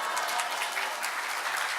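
A church congregation at a prayer-retreat revival service claps together in dense, steady applause, close and full throughout, with no voices standing out.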